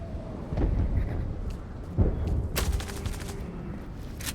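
Gunfire in the video game Zula: several shots and short rattling bursts at mid distance, with a rumbling low background between them.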